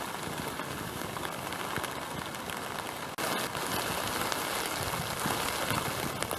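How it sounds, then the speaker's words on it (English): Heavy rain patters steadily on a surface at a lakeside campsite in Alaska, a dense continuous hiss up close, briefly cut off mid-way before resuming. "as you can probably tell from the sound, it's rain"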